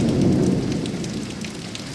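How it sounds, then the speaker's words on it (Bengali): Heavy rain pours in Sylhet as a dense, steady hiss of drops drumming on surfaces, loudest at the start and easing only slightly, with no voices. "মুষলধারে বৃষ্টিটা কি একটু কমছে আর কি, বৃষ্টি কিন্তু আছে এখনো"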